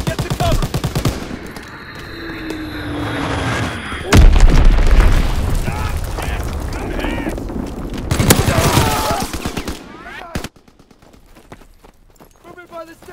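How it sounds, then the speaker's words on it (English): Bombs explode in Call of Duty: WWII multiplayer, a sharp loud blast followed by another, mixed with machine-gun rattle and shouted in-game voice callouts. "Enemy bomb incoming! Get to cover!"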